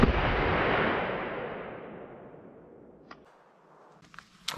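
.38 Special +P round fired into ballistic gel backed by fiberboard: a single loud gunshot at the start whose broad boom decays slowly over a few seconds, followed by faint clicks and small knocks.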